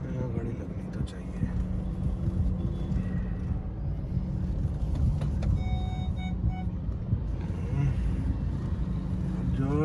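A car idling and maneuvering into a parking spot, its engine a low steady rumble throughout while a person talks over it.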